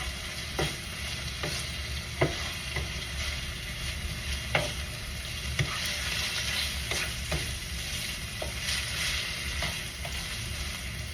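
Steak and cheese frying in a pan while being stirred, giving a continuous close sizzle broken by scattered sharp scrapes and clicks of a utensil against the pan.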